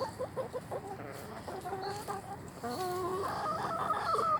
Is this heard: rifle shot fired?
no